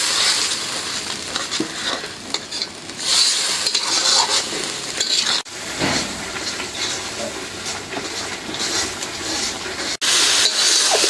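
Ground spice paste of coriander, cumin, pepper, cardamom, cinnamon and dried chilli frying in a pan for a spicy chicken curry, a steady close sizzle with stirring scrapes throughout.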